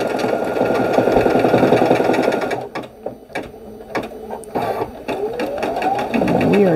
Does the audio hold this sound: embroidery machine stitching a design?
yes